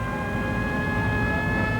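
A steady police siren tone holds over low engine rumble during a chase, loud and close, without pause.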